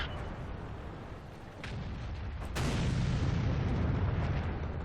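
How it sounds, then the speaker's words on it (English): Artillery in the tank battle game World of Tanks firing and exploding, with a rumbling boom that swells in midway and a sharp blast near the end, then a sustained heavy low roar. "Artillery's next. Ready to fire."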